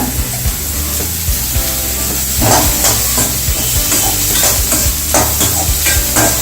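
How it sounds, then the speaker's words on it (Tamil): Beans and carrots stir-fried in a hot pan for vegetable fried rice, a steady close sizzle and hiss broken by repeated scraping stirs, with no voices. "பீன்ஸ் போட்டு கொஞ்சம் லைட்டாக வதக்கிட்டுங்க"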